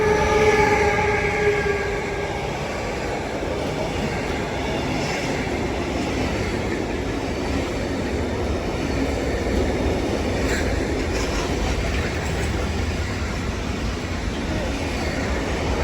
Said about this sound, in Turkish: Ama büyük tren daha geliyor.